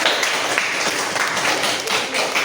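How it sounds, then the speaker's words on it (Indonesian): Classroom applause as students clap with spirit, a dense, steady patter of many hands filling the whole stretch at close range without any talk. "Tepuk tangan dulu bersemangat"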